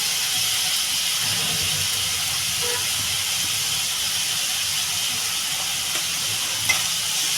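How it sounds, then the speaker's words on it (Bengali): Cumin, coriander and chilli powder masala for a pomfret fish curry is being sautéed in a pan, producing a constant, even hiss and sizzle with faint scraping underneath. "মশলাটা ভালো করে কষাবো"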